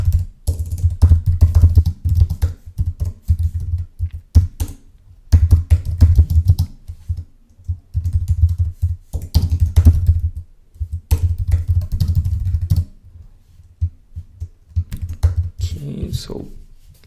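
Steady clicking of a computer keyboard as application code is written, in quick bursts separated by short pauses, close and fairly loud, with faint low voice-like murmur beneath.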